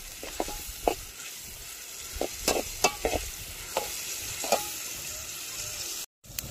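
Tomatoes are stirred into onions frying in a pot outdoors, giving a low sizzle with repeated scrapes and knocks of a spoon against the pot at an irregular pace, close by and with no talk.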